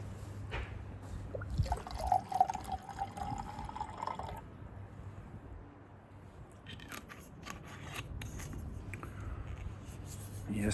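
Old Forester 100 Proof bourbon whiskey is poured into a glass: a faint, steady trickle of liquid with a rising fill tone, set against a low background hum and a few soft handling noises.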